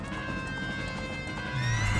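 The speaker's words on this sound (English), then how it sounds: "now the horse is gone" A horse in the video game Ocarina of Time neighs over quick clip-clop hoofbeats, a short, fairly quiet burst of game sound with a rising whinny near the end and no talking.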